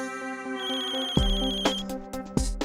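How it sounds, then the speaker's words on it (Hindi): A telephone ringtone plays a repeating electronic melody of clear tones, loud and close, with no talk over it, from a domestic scene in a Hindi family comedy series. "लो, शैतान का नाम लिया और शैतान का फोन आ गया।"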